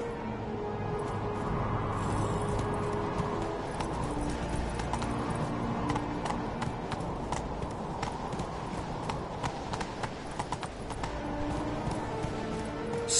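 Roach, the horse in The Witcher 3 video game, trotting with a steady run of close hoofbeats that continues throughout.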